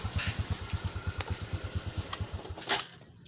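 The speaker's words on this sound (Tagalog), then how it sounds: "okay na matining na matining na yung kanyang makina at hindi na siya stuck up" A Honda XRM 125 motorcycle engine runs after being repaired, a close, loud, rapid and even thumping beat that stops near the end.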